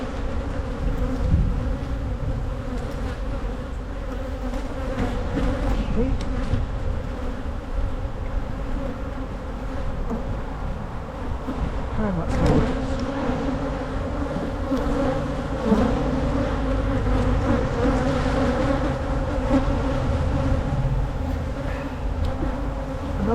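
Honey bees buzz in a dense, steady drone while a hive is split by the walk-away method, the swarm hum continuous and close throughout with no voices.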